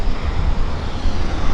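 A classic Learjet lands at Vancouver airport, its engines making a steady broadband jet roar with strong low rumble and wind buffeting, loud and continuous.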